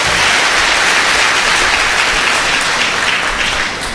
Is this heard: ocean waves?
no